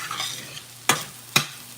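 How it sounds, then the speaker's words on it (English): Sliced Spam fries in a pan for Chamoru-style fried rice, a quiet steady sizzle punctuated by two sharp clacks of a utensil against the pan. "All right, Spam. I like to get it a little crispy, guys."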